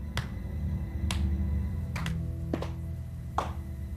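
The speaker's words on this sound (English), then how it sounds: "and then you hear this clapping" Slow, deliberate hand claps in a film's opening scene, single sharp claps spaced about a second apart over a low sustained background, with no talking.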